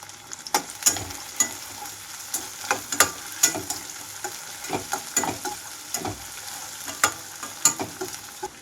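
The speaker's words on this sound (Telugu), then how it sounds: "ఉల్లిపాయలు కంప్లీట్గా వేగిపోవడం కోసం ఇవి వేగేటప్పుడే కొంచెం ఇంగువ కూడా వేసేసుకుంటున్నాను" Onions fry in hot oil as a pinch of asafoetida goes in: a close, steady sizzle broken by frequent sharp spatula scrapes and clacks against the pan at an uneven rhythm.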